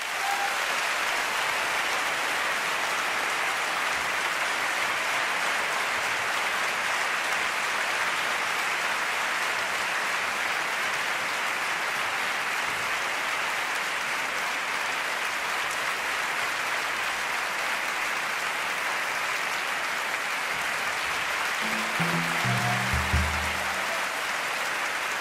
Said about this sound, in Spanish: para el que pido el mayor de los aplausos de esta noche